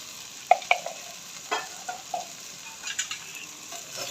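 Black pepper and red chilli being stirred into half a kilo of okra for fried bhindi, giving soft scattered scrapes and clicks of a spoon in a pan over a faint sizzle, with no talk.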